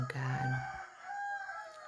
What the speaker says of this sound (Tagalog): Ang dami kasing manok dito.